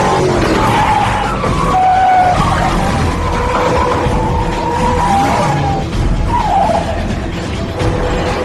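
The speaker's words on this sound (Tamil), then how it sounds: "இந்த முறையாவது நீ வண்டியை ஒழுங்கா திருப்புறியான்னு பாக்கலாம்." Tires squeal and skid as a car turns hard at speed, a loud continuous screech over rumbling engine noise lasting several seconds.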